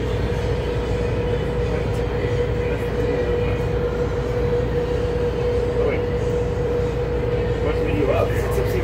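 Interior of the Las Vegas Monorail running northbound toward SLS Station, with a steady rumbling ride noise and a constant hum throughout, loud and close, while people talk in the cabin.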